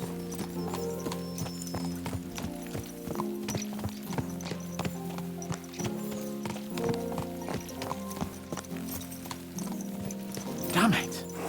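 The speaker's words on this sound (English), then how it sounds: "Let's really spur these horses on, eh?" Horses galloping in Kingdom Come: Deliverance 2, a steady rapid clip-clop of hooves with a brief whinny near the end, layered over medieval music and ambient game sounds.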